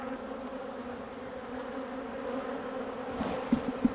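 Honey bees from a swarm hum in a steady, dense drone while being shaken into a hive cavity, a few sharper taps standing out near the end.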